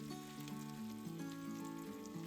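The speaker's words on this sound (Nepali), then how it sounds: "हाम्रो प्याज चाहिँ लगभग भुटिसकेको" Onions frying in a pan, a soft, continuous sizzle that stays quiet and even throughout with no talking.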